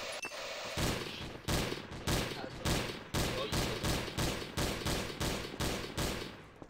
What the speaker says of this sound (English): Why are you shooting?